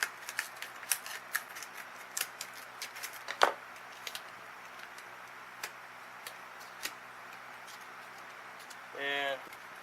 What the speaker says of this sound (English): let me use the other scissors to open up the Stanley scissors.